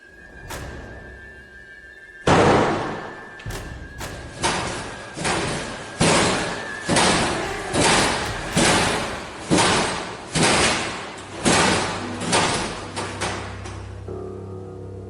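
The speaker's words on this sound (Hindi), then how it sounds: "सबसे पहले रूम का दरवाजा जोरों से बंद होता है।" A room door in a closed-down college slams shut hard, then a series of about a dozen loud, evenly spaced bangs and thuds follows, each sharp and close.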